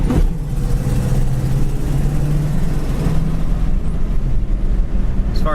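A 1965 Ford Mustang coupe's engine hums steadily as it shifts through the gears, with the pitch dipping and settling between shifts, close and continuous.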